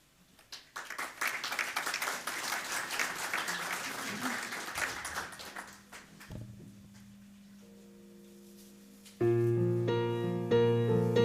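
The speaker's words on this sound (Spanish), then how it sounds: "por favor, con fuertes aplausos" A church congregation at a Sunday service claps in dense, steady applause for several seconds. The clapping fades to scattered claps, then organ or keyboard chords come in.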